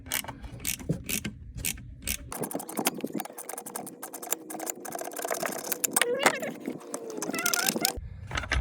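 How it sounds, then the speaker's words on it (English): An 8mm ratcheting wrench loosens bolts during a supercharger install on a 2020 Jeep Grand Cherokee, with rapid, close ratchet clicks in bursts, then a long run of clicking with someone talking over it. "Alright, 8mm ratcheting in wrench."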